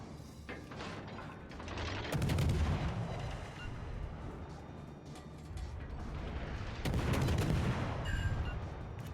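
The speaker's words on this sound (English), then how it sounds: "Get some salvos off at him." Naval gun salvos boom in World of Warships Legends, two heavy thunderous volleys several seconds apart with rumbling tails, set against steady ship and battle ambience.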